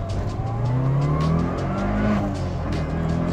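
A Mitsubishi Evo 6.5 Tommi Makinen Edition with a five-speed gearbox drones along a freeway at over 4,000 rpm, its engine note steady and loud, with road and wind noise beneath it.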